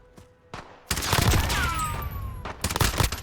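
Bursts of rapid gunfire from a Warzone-style shooter video game, loud and close, with sustained automatic fire and a sliding whistle-like tone, and no talk over it.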